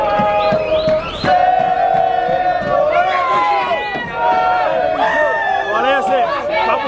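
Football supporters celebrating a two-time championship sing loud, sustained chants together, with voices swelling and overlapping in a dense, continuous roar.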